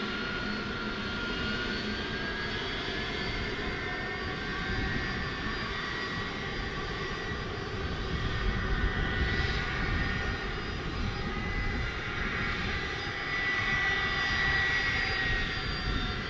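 Jet airliners departing Dallas Fort Worth International Airport in the evening, a steady continuous roar of aircraft engines that swells slightly in the middle and again toward the end, with no voices.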